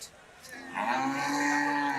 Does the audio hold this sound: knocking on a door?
no